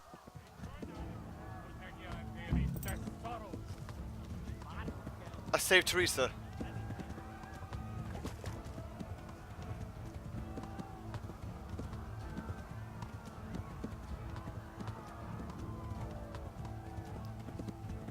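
Horse hooves clip-clop at a steady run in the medieval video game Kingdom Come Deliverance, a continuous rhythmic patter with a louder burst midway and someone talking over it.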